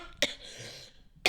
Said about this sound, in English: Thankfully, I have a dry cough.